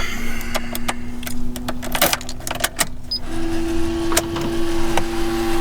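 Motorized sliding monitor of a Nissan Elgrand E50 diesel minivan extending, a steady electric motor whine running through the latter half inside the cabin, with scattered clicks and clunks of interior switches and trim.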